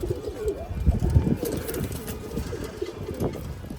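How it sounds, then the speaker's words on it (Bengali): Pigeons coo in a steady soft chorus close by, the low throaty calls repeating over a constant background murmur. "উপরে তিনটা কবুতর দিয়ে"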